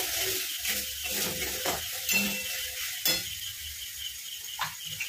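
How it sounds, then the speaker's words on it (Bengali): Sizzling and stirring in a cooking pan as turmeric and cumin powder are sautéed for paneer masala, with scraping utensil strokes and occasional metallic clinks over a steady low fry. "হলুদের গুঁড়ো, আরও কষিয়ে নেওয়া হচ্ছে।"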